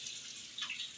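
Water running from a tap, a faint, steady hiss over about a second.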